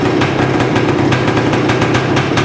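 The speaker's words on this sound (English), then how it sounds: "But that's idling around 1500 RPMs." A cold 1978 Yamaha DT400E motorcycle engine idles at about 1500 RPM, a loud, steady, rapid two-stroke putter with even pulses and no voices.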